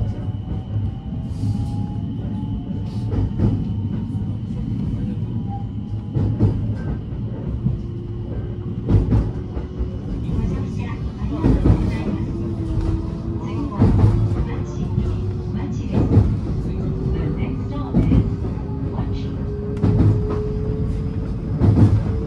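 Inside a local train running between Fukuchiyama and Kyoto, a steady low rumble fills the carriage, broken by recurring rail clacks and faint mechanical tones, continuous and moderately loud.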